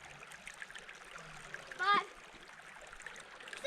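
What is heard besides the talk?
something splashing into the water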